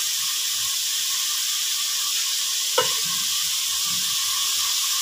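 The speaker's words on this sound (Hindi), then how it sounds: "अब मैं इसमें वेजिटेबल्स ऐड करती हूँ" Vegetables added to chicken and onions frying in a pan give a steady, bright sizzle throughout, broken once by a brief knock partway through, with no talking.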